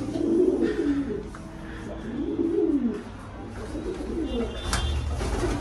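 Pigeons coo in a wooden plank pigeon house, a soft, continuous low burble of several birds close by, rising and falling without pause.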